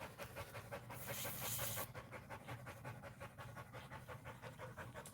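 A dog pants close by in fast, steady, rhythmic breaths, with a brief louder hiss partway through.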